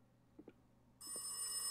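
A telephone starts ringing late at night after a couple of faint knocks or thuds, the ring loud and steady once it begins.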